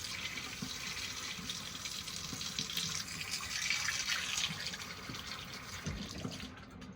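Water poured into an espresso portafilter to warm it and then drained out by tilting, a steady soft splashing trickle like running tap water, fairly quiet and continuous with no talking.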